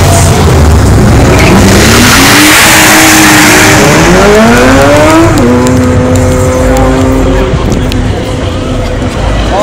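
After a Kansas City car show and cruise, a car does a burnout, its engine revving up in rising pitch steps as tires squeal loudly over a roaring, crowded outdoor scene with people talking.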